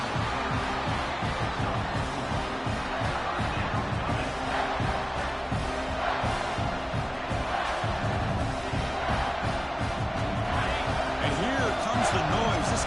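A stadium crowd roars without pause in a college football video game as the home fans urge the defense toward a red zone stop. The dense, loud noise runs the whole time with a commentator talking over it.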